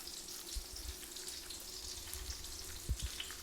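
Shrimp cakes fry in a pan with a steady, close sizzle and crackle, broken by a couple of soft low knocks near the end.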